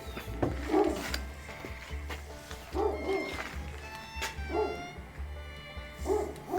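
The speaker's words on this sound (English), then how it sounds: "I don't know what they're barking at." Dogs bark repeatedly at an outdoor shooting range, sharp barks recurring about every second and a half at moderate distance over a low steady hum.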